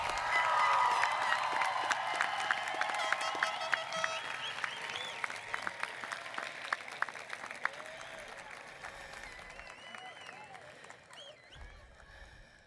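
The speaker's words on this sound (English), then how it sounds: "Could we get one big round of applause for the class of 2019?" A large crowd at a 2019 high school graduation ceremony gives a long, steady round of applause for the graduating class, loud at first and slowly thinning out toward the end.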